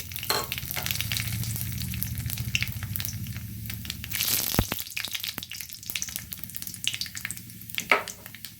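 Broken dried red chili and nigella seeds sizzle and crackle in hot oil, a steady frying hiss with occasional stirring scrapes, close up and without speech.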